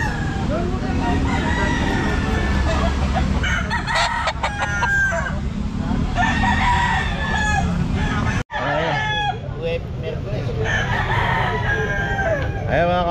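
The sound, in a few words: bantam chickens crowing and clucking at a pet market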